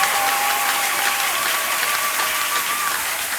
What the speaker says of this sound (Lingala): Est-ce que vous pouvez acclamer pour vous-même?